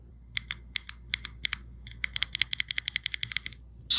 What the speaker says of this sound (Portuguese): E na digitação ele lembra bastante outros teclados magnéticos que eu já testei.